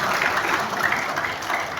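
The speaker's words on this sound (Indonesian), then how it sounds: "Tepuk tangan untuk saya" Audience applause at an inauguration ceremony, a dense, steady wash of many hands clapping from a crowd in a hall, continuous and fairly loud with no talking.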